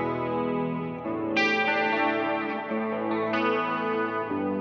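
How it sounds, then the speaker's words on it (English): Sustained electric guitar chords washed in chorus shimmer, long delay repeats and reverb, with a couple of bright re-struck chords ringing into one another. "So when you combine that with the delay and the reverb, and the chorus rather,"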